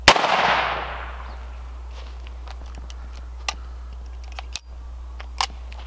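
A single loud shot from a very large revolver bursts at the start and its echo fades over about a second, followed by a few faint clicks and ticks.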